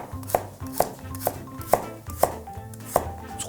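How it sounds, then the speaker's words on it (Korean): Carrots being julienned with a kitchen knife on a cutting board for stir-fried udon, six sharp chops falling at a steady, unhurried rhythm, close and clear with no talk. "당근도 채 썰어주세요."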